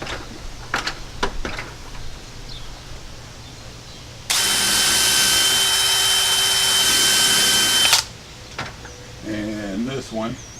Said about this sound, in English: so I'm going to go ahead and put a couple more screws here on the end.